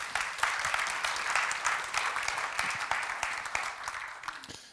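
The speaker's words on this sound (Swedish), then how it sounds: "En applåd." Sustained audience applause at an internet industry conference, welcoming a panel speaker; even, close clapping that holds steady before fading out at the end.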